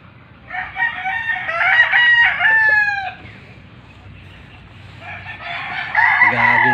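A rooster crows loudly nearby at a small backyard poultry yard in the morning, a long rising call, then after a brief lull another crow begins, with faint background noise between.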